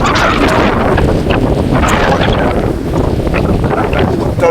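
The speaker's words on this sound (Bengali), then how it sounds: "প্রচুর হাওয়া দিচ্ছিল কারণ রায়মঙ্গল নদীর এত হাওয়া আমি ভাবতে পারিনি" Strong wind buffets the microphone on a boat crossing the Raimangal river in the Sundarbans. The roar is loud and constant, with water and boat noise mixed in beneath it.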